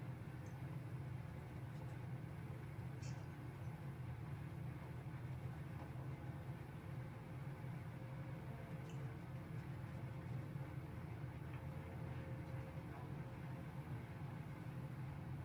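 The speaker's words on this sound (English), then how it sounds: "There's my engine. Engine's awful quiet inside the plane." A small airplane engine heard from inside the cabin, a steady low droning hum that stays even and fairly quiet throughout, with no talking.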